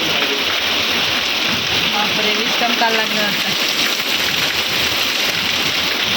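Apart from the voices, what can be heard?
rain falling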